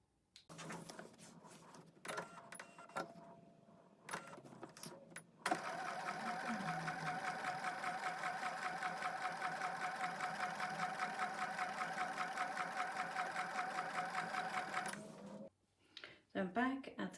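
A home sewing machine stitches a foundation paper-pieced quilt block, running steadily and fairly close for about ten seconds, framed by brief handling noises and a little talk before and after.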